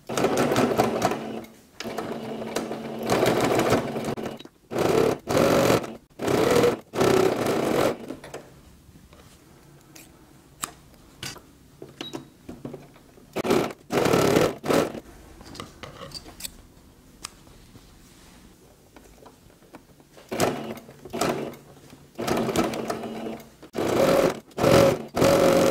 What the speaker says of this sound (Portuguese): Só arrumar direitinho e passar agora um pezinho de máquina.